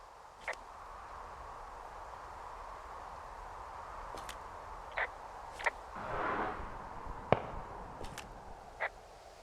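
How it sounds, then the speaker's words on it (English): Distant fireworks in the video game Firewatch pop and crackle in scattered single bursts, several sharp faint reports spread over a quiet ambient wilderness background. "Those fireworks are going off to the west of you."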